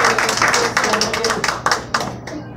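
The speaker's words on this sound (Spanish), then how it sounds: "Denle un aplauso." Church congregation claps in a fairly sparse, rhythmic pattern of close, sharp hand claps, uneven bursts over a low background hum, tapering off at the end.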